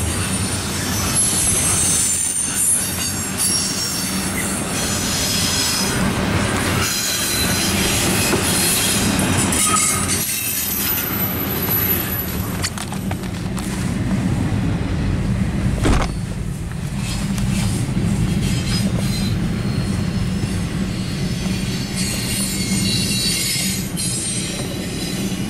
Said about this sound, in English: This is bringing me a long train.